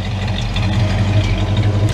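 A 1966 Ford Mustang convertible with dual exhaust idles steadily, a low, even engine rumble held close and unbroken, with no talk over it.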